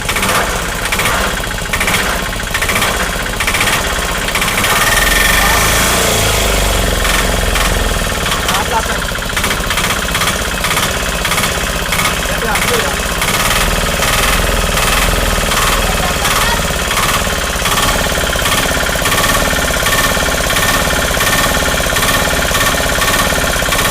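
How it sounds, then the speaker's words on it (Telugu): A bored-out 2018 Ape BS4 auto-rickshaw engine runs with a loud, steady, rapid hammering rumble that continues the whole time, with a voice faintly audible underneath. "మరి కొద్ది క్షణాల్లో దీని ఇంజిన్ బీడింగ్ ఎలా ఉందో వినిపిస్తా చూడండి."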